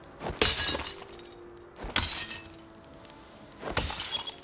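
Three separate bursts of potion-bottle glass shattering in a video game, each a sharp crash followed by tinkling shards, spaced about a second and a half apart with quiet between.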